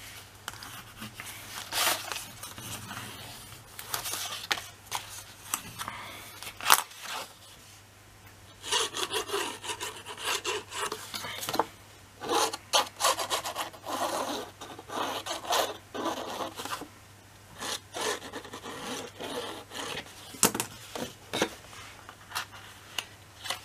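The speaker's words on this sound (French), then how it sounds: "Je marque bien mes plis." Paper is pressed and rubbed along its folds to crease a pocket for a scrapbook album, producing close, intermittent scraping and swishing strokes with short pauses between them.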